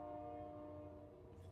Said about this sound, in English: Thanks, train. Why do you always come at these points?